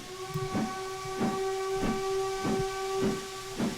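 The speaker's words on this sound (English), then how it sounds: "Oh, and we also got to blow the whistle." An LMS Stanier Class 5 'Black Five' steam locomotive in Train Simulator 2018 holds a steady, sustained whistle tone while its exhaust chuffs pulse at a regular beat beneath, close and moderately loud throughout.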